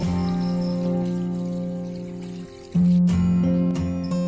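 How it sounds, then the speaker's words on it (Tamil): Water poured steadily into a pressure cooker holding goat legs, a continuous trickling stream that pauses briefly and then resumes louder and closer. "குக்கர்ல ஆட்டுக்கால் போட்டு அது மூழ்கிற அளவுக்கு தண்ணி ஊத்திக்கோங்க."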